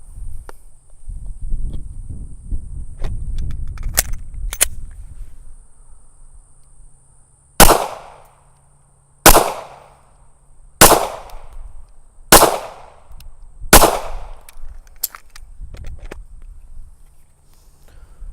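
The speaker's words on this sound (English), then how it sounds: "I got 5 rounds in this magazine. I'm going to shoot it directly at the center target there" Five sharp 9mm handgun shots fired at a target, evenly spaced about a second and a half apart, loud and close with short echoing tails, following some handling and shuffling noise.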